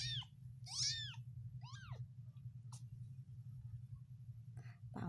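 A kitten gives several thin, high meows in quick succession, then falls quiet over a low steady rumble, with a brief soft sound near the end.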